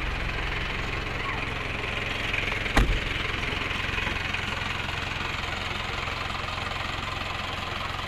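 An owner-type jeep engine idling with a steady low rumble and faint knocking, one brief louder thump partway through, heard close and alone without talk.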